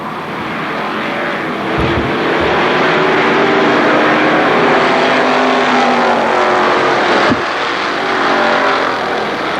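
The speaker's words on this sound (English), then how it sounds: "Green flag, we are racing once again." Race cars roar around a speedway at a Labor Day championship race under green flag, a loud, dense, continuous engine drone with overlapping cars passing close, no talk over it.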